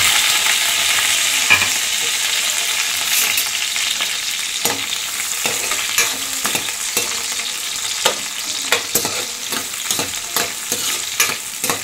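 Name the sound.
frying onions and green chillies in oil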